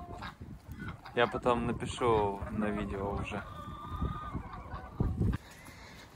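Several geese honk loudly nearby at horse stables in Konakovo, with harsh repeated calls overlapping while a person talks.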